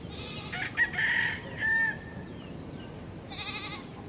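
A rooster crows nearby in Davao, Philippines, in a couple of drawn-out calls, followed by softer chicken sounds, over faint outdoor background noise.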